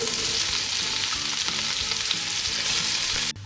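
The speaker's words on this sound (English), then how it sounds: "so now add in the onions" Onions frying in hot oil with whole peppercorns, cloves and green cardamom for a chicken drumstick curry, a loud steady sizzle with stirring scrapes throughout, close and without talk, cutting off abruptly at the end.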